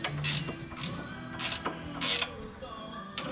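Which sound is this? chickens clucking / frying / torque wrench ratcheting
torque wrench ratcheting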